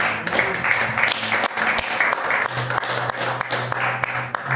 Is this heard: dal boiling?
no